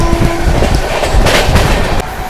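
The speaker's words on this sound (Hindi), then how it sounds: "यहाँ किसी ट्रेन को इंटरसिटी ट्रेन को ओवरटेक करके जा रहे हैं हम" An express train, the Gondwana Superfast, rushes past an intercity train on an Indian railway, making a loud close roar with rapid rhythmic wheel clatter throughout.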